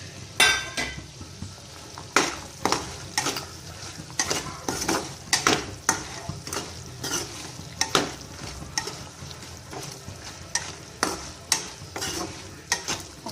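Mutton pieces frying in oil in a pan on a low flame for spicy South Indian mutton chutney, with a steady soft sizzle broken by repeated clinks and scrapes of a spoon stirring against the pan.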